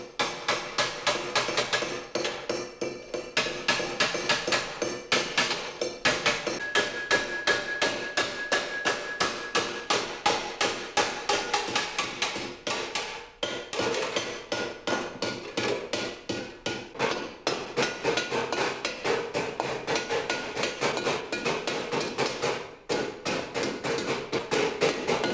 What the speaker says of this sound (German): Mit dem Falzeisen zieht er die Kanten noch einmal nach.